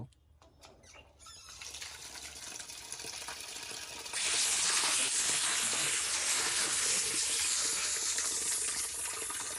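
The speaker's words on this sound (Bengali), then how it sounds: "ঠান্ডা পানিটা এখন ঢেলে নেব" Cold water pours steadily into a pot while crab is being cooked, a close rushing splash that grows louder and fuller about halfway through and then holds without a break.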